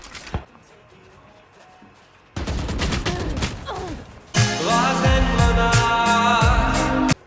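Valorant gameplay is full of gunfire: a lone early shot, then bursts of rapid automatic fire that build into a dense, loud fusillade of overlapping shots with game effects.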